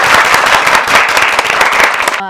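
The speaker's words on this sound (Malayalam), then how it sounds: "സാർ കൈയടി." A studio audience at an Onam star singers show on Asianet bursts into loud, dense applause. The clapping is close and continuous, with some voices mixed in.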